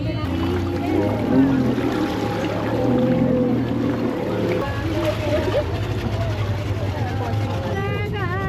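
A river ferry at Rishikesh runs with a steady engine drone and water wash, loud and continuous, while people talk throughout.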